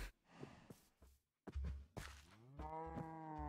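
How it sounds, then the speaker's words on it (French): Cows moo in the video game Minecraft, several low drawn-out calls among soft thuds and shuffling, quiet and close with no talk. "Venez les petites vaches."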